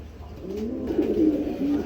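A pair of sobji pigeons coo close up, a few drawn-out rolling calls rising over a quiet hum, with no voices.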